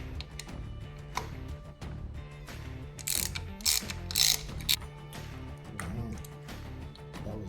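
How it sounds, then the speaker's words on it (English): A ratchet clicks in quick bursts of rapid pawl ticks while loosening the clutch clamp on a Harley-Davidson handlebar, close and fairly quiet, with metallic clatter between strokes. "Loosen up the clutch clamp too."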